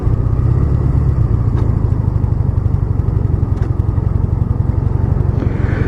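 A Honda Nighthawk motorcycle engine runs in too high a gear while riding, giving a steady low, lugging drone with a fast pulsing throb that holds evenly throughout, close and fairly loud.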